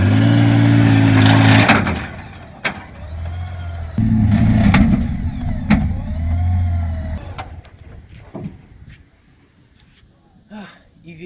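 Honda Goldwing F6B motorcycle revving hard at full throttle in two loud bursts, each rising then cutting off, followed by quieter handling noises and faint sounds as it settles.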